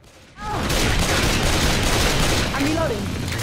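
Dense, continuous gunfire from the Left 4 Dead video game, loud and sustained after a brief quiet start, with overlapping shots and game noises and a voice briefly heard.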